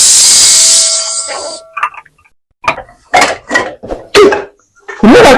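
A kitchen pressure cooker lets out a loud, shrill whistle with hissing steam that cuts off after under a second, followed by short bursts of voices talking.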